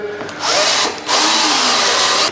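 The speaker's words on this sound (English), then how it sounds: "First, we're going to drill through." A power drill bores through a countertop while a hole is cut for a sink, running loud and close in two sustained bursts with a brief dip between them.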